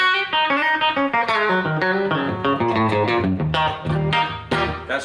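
Electric guitar played through a Fender Tone Master FR-12 amplifier and Boss IR-200 with reverb switched off, ringing chords and single notes with mild gain, loud and dry, no talking.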